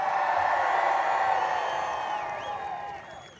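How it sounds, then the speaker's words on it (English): A large, excited political rally crowd in Kinston, North Carolina cheers and whoops in a sustained, dense roar with scattered shouts, fading slightly toward the end. "This looks like a beautiful crowd that's excited and ready to take our country back."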